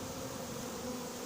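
A swarm of honeybees gathering on a cardboard box during a swarm recovery, a dense, steady buzzing drone heard up close with no voices.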